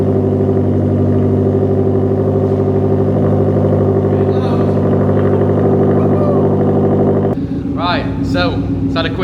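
A Subaru WRX STI with a backbox delete exhaust, idling loud and rowdy after a brief warm-up, a steady deep drone, then a sudden change near the end as a blip of revs and higher tones cut in.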